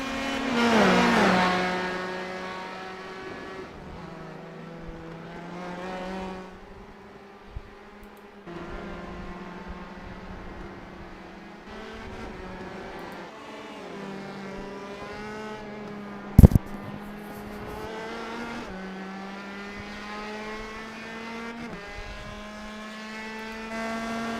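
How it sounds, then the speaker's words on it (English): An open-wheel race car from a racing video game screams around the Indianapolis oval, its engine whining at high pitch and shifting through gears, with brief sharp bumps mid-run and no talking. "That's right along on the nose of Rob's car as he rolls up the oh-so-famous banking at Indianapolis"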